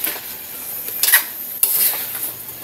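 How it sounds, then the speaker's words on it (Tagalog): Okra and green chili vegetables stirred in a pan, a spoon scraping and clinking against the metal in a few brisk strokes over a soft background sizzle. "Haluin natin."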